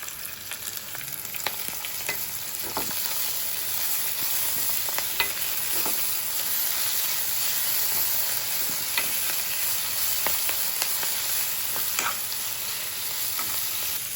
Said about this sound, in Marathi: आता भाजी टाकून घ्यायची त्याच्यात.